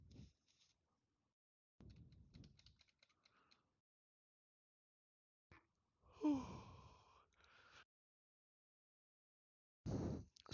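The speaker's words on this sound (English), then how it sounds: "I did not mean to yawn at y'all." A single faint human yawn, a drawn-out breathy voiced sound near the middle, surrounded by soft keyboard typing and brief quiet noises in an otherwise silent room.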